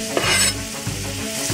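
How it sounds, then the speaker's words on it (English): Sliced onions sizzle and crackle in a hot pan just after pig cheeks have been browned and lifted out, a close, steady fry with a few stirring scrapes and no voices. "So we take the cheeks out when they're browned and"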